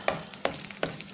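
Chile relleno frying in a pan of hot oil, with three sharp crackling pops over a steady soft sizzle, close and fairly quiet.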